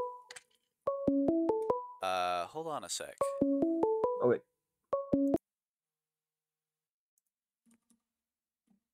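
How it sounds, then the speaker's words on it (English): A phone rings with a stepped electronic ringtone melody that repeats three times, loud and close; a voice speaks briefly between the first and second rounds. "I am getting a phone call."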